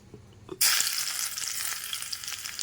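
After a short quiet moment, hot oil bursts into a loud, steady sizzle as tempering spices hit the pan, crackling continuously.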